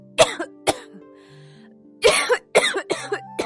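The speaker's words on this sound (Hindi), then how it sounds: "बस थोड़ी सी खांसी ही तो है" A woman coughs in short harsh bursts, a couple of single coughs followed by a rapid cluster of throat-clearing hacks, close and loud against quiet background music.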